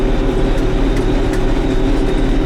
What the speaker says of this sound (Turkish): yani şu anki şartlarda traktör koşarak gidiyor resmen.